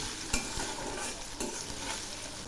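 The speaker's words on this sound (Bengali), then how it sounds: "এই পেঁয়াজ রসুনগুলো আমি একদম লাল করে ভেজে নেব।" Crushed garlic and chopped onions sizzle steadily in hot oil for a Bengali-style dal, with a continuous bright hiss and a couple of soft stirring knocks, close and alone.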